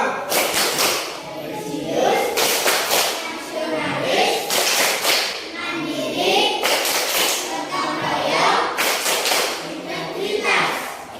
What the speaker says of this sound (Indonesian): marilah kita melakukan tepuk PPK.